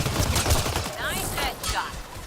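Gunfire bursts in the sci-fi shooter Mass Effect Andromeda, a quick rattle of shots up front followed by swirling energy effects and game sounds, loud and close.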